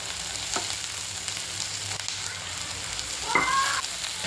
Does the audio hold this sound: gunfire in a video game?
no